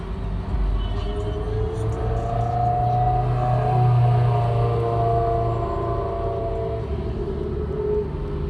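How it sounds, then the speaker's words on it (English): Loud Ferrari at a drag strip passes by, a heavy engine rumble and rising drone that swells to a peak midway and then fades slightly as it moves on. "I've heard that Ferrari right there that just passed by start up, and that thing is loud."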